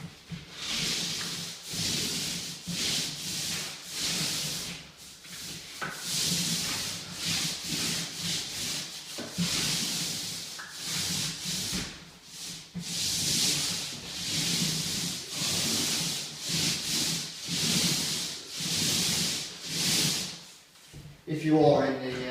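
A roller or brush sweeps basecoat paint over new plaster in long, repeated up-and-down strokes, a continuous rhythmic rubbing hiss that swells and fades with each pass while someone talks over it.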